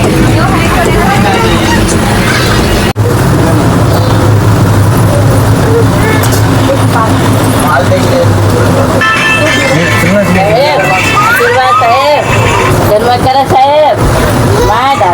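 A vehicle travels along a road near Nanded, giving a steady, loud rumble of engine and road noise throughout, with voices talking over it.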